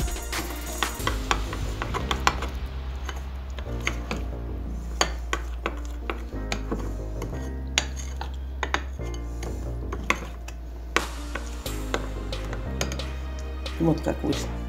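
A utensil clicks and scrapes steadily against a bowl while a cottage cheese mixture with 20 grams of poppy seeds is stirred, under background music and someone talking.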